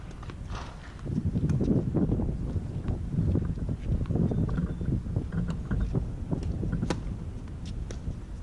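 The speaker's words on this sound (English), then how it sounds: "Well, the wind's dying down." Wind blows across an outdoor tennis court during a girls' high school match. A steady low rumble of wind buffets the microphone for the whole stretch, with faint scattered taps beneath.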